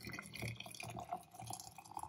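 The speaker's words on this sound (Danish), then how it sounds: "Så nu fylder jeg lige vand på," Water is poured over flower heads in a container for a garden dye experiment, a soft close trickle and dripping that continues steadily and quietly.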